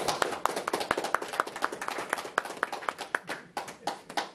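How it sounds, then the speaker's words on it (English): An audience at an art exhibition opening for linocut prints and tempera paintings claps steadily, with the crisp, dense patter of many hands going on throughout and fairly close. "Give her a round of applause."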